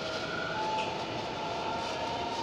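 A Kochi Metro train runs with a steady, close rumble and a faint high whine, a continuous interior ride sound with no one talking.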